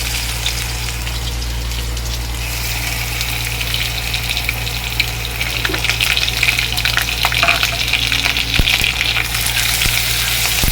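Garlic and dried red chilli with black cumin sizzling steadily in hot oil, a continuous close frying hiss with occasional stirring clinks and spatters, under a low constant hum.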